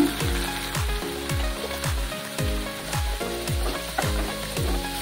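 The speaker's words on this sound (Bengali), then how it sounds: "কাঁচা লঙ্কা দিয়ে দিলাম। এবার 1 চামচ কাশ্মীরি লঙ্কার গুঁড়ো দিলাম।" Green chillies and Kashmiri chilli powder fry in hot oil, giving a loud, steady sizzle with soft stirring scrapes throughout, close and without talking.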